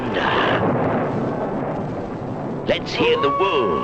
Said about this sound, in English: Roll the thunder.